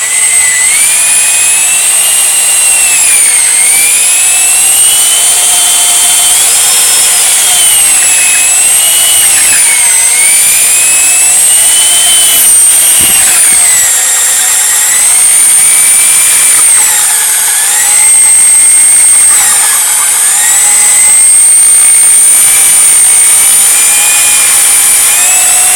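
Ship auger on extensions boring into plastic, a loud, continuous high-pitched whine that rises and falls in pitch as the bit cuts, with no voices.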